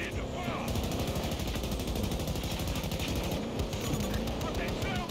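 Rapid automatic gunfire from the video game Battlefield 2042 rattles continuously and loudly in dense bursts, with players talking over the shooting.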